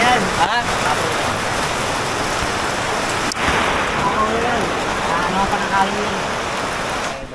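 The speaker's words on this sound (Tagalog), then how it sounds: "Inulan pa kami mga boss habang nagbubuhos." Heavy rain pours down in a steady, dense roar around a Lalamove delivery driver caught outdoors, with a voice faintly audible beneath the downpour throughout.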